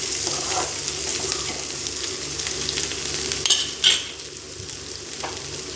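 Pirandai chutney ingredients with tamarind sautéing in a pan, a continuous close frying sizzle with stirring scrapes throughout and a couple of sharper clinks partway through.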